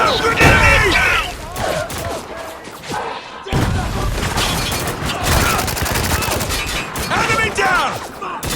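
Dense shooter-game gunfire crackles in bursts through a firefight in Spec Ops The Line, with sharp impacts and crashes under loud shouted voices throughout.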